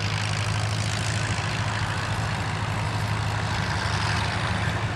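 A vintage stationary engine runs steadily at an outdoor vintage field day in Western Australia, making a continuous low, throbbing mechanical drone at close range with no pauses or speech.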